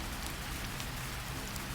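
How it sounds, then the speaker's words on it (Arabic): Steady rain falls outside a house, a dense, even patter of drops on surfaces continuing without pause, fairly quiet and with no voices. "وبقيت سلمى تنظر من النافذة، تراقب حبات المطر تتساقط وتبتسم"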